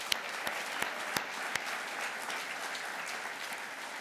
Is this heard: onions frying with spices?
no